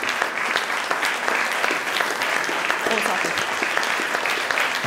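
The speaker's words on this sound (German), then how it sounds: "Dein Applaus." Sustained applause from an awards-gala audience in Dresden fills the room, thick and continuous clapping at a steady level from start to finish, with faint voices mixed underneath.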